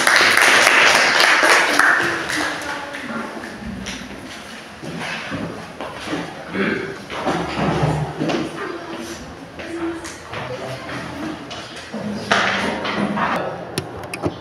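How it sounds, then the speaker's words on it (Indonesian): Classroom applause after a student presentation, a dense patter of clapping loud at the start and then fading into scattered claps and shuffling over the next seconds, with a brief swell again near the end. "Tepuk tangan."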